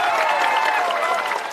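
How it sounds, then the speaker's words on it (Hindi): Crowd at an outdoor political gathering of Prashant Kishor's Jan Suraaj breaks into loud clapping, a short dense burst of applause with a murmur of voices mixed beneath it. "बजा लो ताली जोर से"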